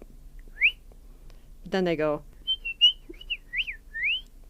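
A person whistles an imitation of a house finch, giving rising and warbling call-like notes before and after a short spoken phrase, close and fairly clear in a quiet room.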